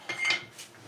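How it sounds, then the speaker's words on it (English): A metal whisk scrapes and clinks against a pot while stirring gravy for a pork roast dinner, a few quick close scrapes lasting under a second. "just stirring this gravy one last time so it doesn't get a crust on the bottom"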